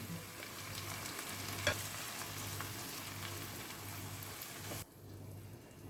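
Onions frying in a pan with chopped tomato added for pav bhaji, giving a steady hiss and sizzle with a brief stir clatter, then the sizzle abruptly drops quieter near the end.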